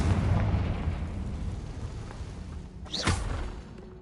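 A Confringo fire-blast spell from Hogwarts Legacy, heard as a loud sustained rumbling blast that fades, then a sharp whooshing burst near the end.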